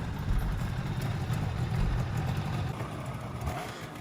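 A 1970s Kawasaki KH250 two-stroke triple motorcycle engine running steadily with a low, rough, busy drone and slight clatter, nearby and continuous with no talking.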